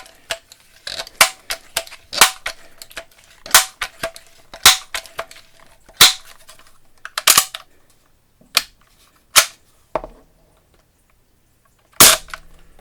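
Crosman 760 Pumpmaster air rifle pumped and fired, a string of sharp, close snapping clicks and pops spaced irregularly across the clip, with a short quiet pause near the end before one last crack.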